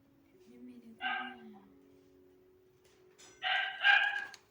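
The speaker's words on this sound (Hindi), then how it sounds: "सर मैं नहीं बोल रही हूँ सर, वो एलेक्स भौंक रहा है." A pet dog barks in a home, with one short bark followed by two louder close barks near the end, alone over a faint steady hum.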